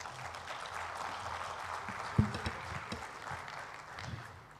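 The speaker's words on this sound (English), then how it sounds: "Another big round of applause." An audience claps at a conference, a steady wash of many hands at moderate distance, fairly soft and even throughout, with a slight fade at the end.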